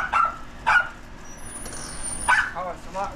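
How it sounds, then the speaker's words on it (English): A dog barks several times in a residential yard by a trailer, the sharp barks spaced irregularly over outdoor background noise while people talk nearby. "Oh, she's got a dog. Dog barks a lot."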